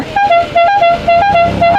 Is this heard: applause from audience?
no